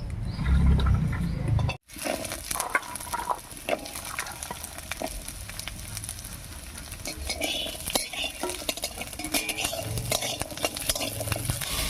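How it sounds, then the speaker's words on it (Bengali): Garlic cloves fry in a little oil in a wok, a continuous soft sizzle broken by scraping and clinking of a spatula stirring against the pan, after a brief gap at the start, no voices. "কড়াইয়ের মধ্যে যে সামান্য একটু তেল আছে এই তেলের মধ্যে রসুন কটা দেবো"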